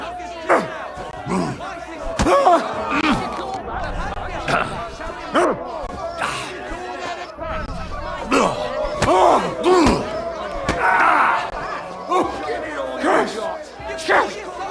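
Fistfight in Kingdom Come Deliverance 2, a brawl at Zhelejov: heavy thuds of punches land in irregular succession, each a sharp slam, mixed with grunts and taunting game voices throughout.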